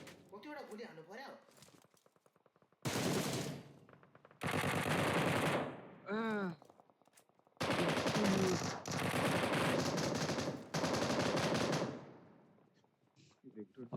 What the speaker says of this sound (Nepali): कतिवटा गोली हान्नु पर्यो